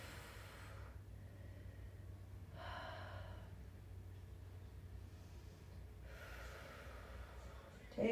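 Slow, deep breaths from a person holding a yoga stretch during a calming session, with a few audible inhales and exhales that rise and fade over a steady background hush; no talking.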